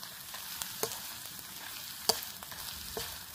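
Onion and chilies frying in a pan make a steady low sizzle, with light scattered taps and one sharp clink from the stirring spoon.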